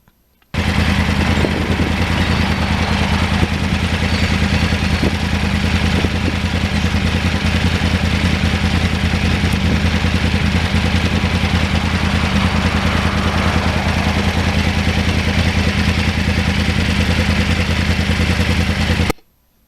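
A 2009 crossplane Yamaha R1 motorcycle engine runs steadily and loudly for nearly twenty seconds, a dense, unbroken mechanical drone with clattering texture that cuts off abruptly at the end.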